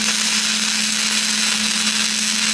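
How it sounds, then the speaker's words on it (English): Tack welding a piece onto a steel truck flatbed produces a loud, steady electric buzz and crackling hiss with a strong hum underneath, held without a break from start to finish. "we're just gonna tack it on the back side"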